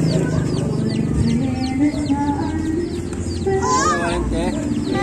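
Many chicks for sale at a fiesta, a busy mass of high, rapid peeping close by, with people chatting throughout.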